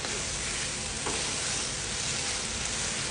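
Finely chopped green chillies sautéing in hot oil in a pan, a loud, continuous crackling sizzle heard up close with no talking.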